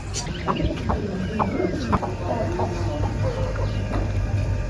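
Several Aseel chickens, including a rooster and a hen, cluck and murmur nearby in short, irregular bursts over a low steady hum of background noise.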